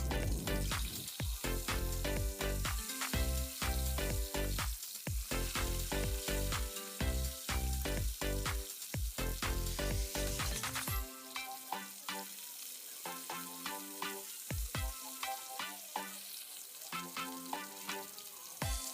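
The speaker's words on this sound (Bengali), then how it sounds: "আর মাছগুলো আমি খুব কড়া করে ভাজবো না, হালকা একটু ভেজে নেব।" Pieces of katla fish frying in oil in a pan, with loud rhythmic clanks and scraping from a spatula alongside the sizzle, busier in the first half and softer later.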